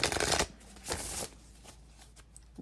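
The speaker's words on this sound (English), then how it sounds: "Let me get one more good shuffle." Tarot cards being shuffled up close, a loud riffling burst, then a second one, followed by softer handling of the deck.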